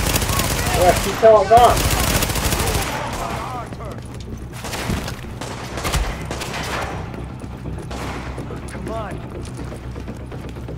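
Automatic gunfire in the video game Tom Clancy's The Division, loud rapid bursts and scattered shots throughout, with someone talking over the shooting.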